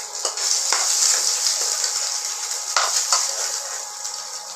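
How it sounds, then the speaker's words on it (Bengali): Hilsa fish frying in hot oil makes a steady, bright sizzling hiss throughout, with a few faint clinks of a utensil against the pan. "ইলিশ মাছগুলোকে ভেজে নিলাম।"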